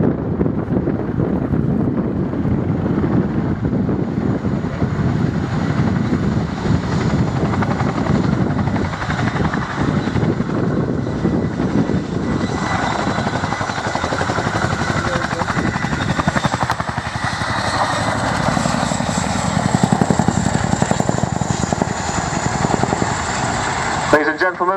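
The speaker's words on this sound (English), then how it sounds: "another unique capability of this helicopter, due to its undercarriage configuration, is the fact that it can reverse down the runway on just its back wheels." Boeing Chinook twin-rotor helicopter taxiing backward down a runway on its rear wheels at the Culdrose air display, a loud continuous rotor and turbine roar with wind buffeting, steady and close for the whole stretch.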